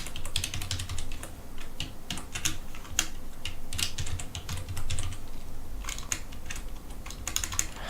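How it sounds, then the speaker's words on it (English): Typing on a French computer keyboard, a rapid, irregular stream of close, crisp key clicks in bursts with brief pauses, no talk. "French keyboard!"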